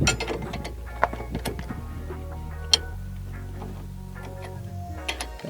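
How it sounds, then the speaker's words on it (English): Trailer hitch bolts being tightened with a two-foot breaker bar make a series of ratcheting ticks and metallic clicks, close and fairly quiet, with a few sharper knocks. "a breaker bar that helps me, makes it easier for me to tighten these up"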